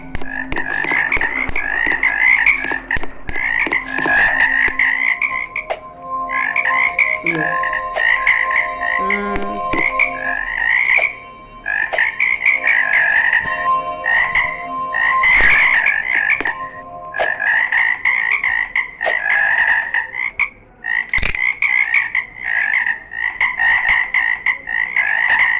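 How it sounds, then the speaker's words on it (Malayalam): Repeated frog croaks from a Roblox game, loud and close, coming in steady rhythmic bursts throughout with brief pauses and a few sharper clicks mixed in. "എനിക്ക് തോന്നി തവള തുടങ്ങി."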